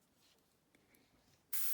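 After a near-silent pause, an airbrush loaded with a mix of pink and violet ink for colouring hydrangeas bursts into a loud, sharp, steady hiss close by.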